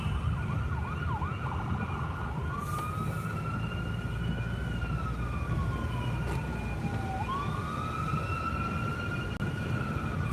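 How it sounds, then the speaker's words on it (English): An ambulance siren wails steadily, sweeping in pitch as the vehicle passes on a rain-soaked Cleveland road during a heavy downpour, loud over constant rain and road noise with no talk. "ambulance."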